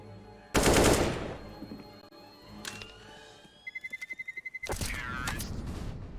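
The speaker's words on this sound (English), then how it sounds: "And some shots ring through." Gunshots in the video game Counter-Strike: Global Offensive during a competitive match: a loud heavy burst, then sparse shots and a quick rattling automatic volley before another loud burst.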